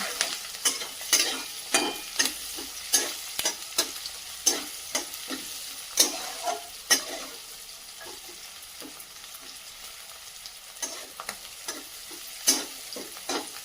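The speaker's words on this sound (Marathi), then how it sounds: "कांदा परततोय तर त्यामध्ये थोडेसे वाटाणे टाकून घेऊया।" Onion and peas sautéing in hot oil in a pan for mint-and-pea poha, a steady sizzle punctuated by repeated stirring scrapes of a spoon against the pan, close and without talk.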